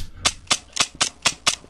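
Shotgun fire in the VR game Animal Company: seven sharp, evenly spaced shots in quick succession, each a crisp crack with a short tail.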